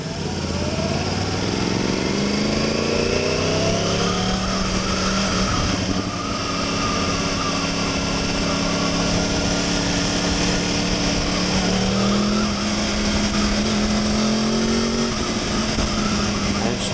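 A liter-class sport motorcycle at a motorcycle show demo ride revs steadily through its higher RPMs, a loud continuous engine drone with rising and shifting pitch throughout.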